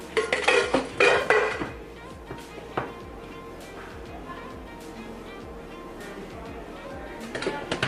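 Hair bleach and developer mixed in a bowl give bursts of clinking and scraping at the start and again near the end, with quieter taps and a faint hiss in between.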